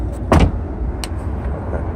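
Door of a 2015 Chevrolet Corvette convertible shut using its handle, one solid thump early on, then a lighter click about half a second later over a low idle-like rumble, close by, no speech.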